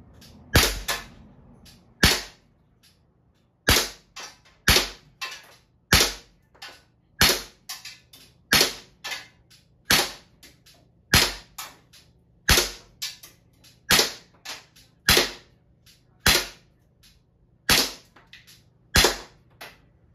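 CO2-powered Glock 19 Gen3 BB air pistol fired at targets, about sixteen sharp, loud pops spaced roughly a second or so apart, close by and with no talking.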